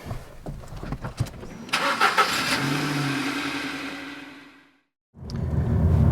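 A 2005 Ford Focus Mk2 engine cranks and catches, then revs up and settles into a rising drone before cutting to silence, followed by renewed engine noise.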